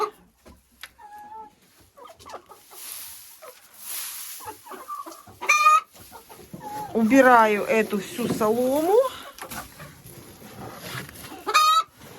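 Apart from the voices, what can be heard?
chickens clucking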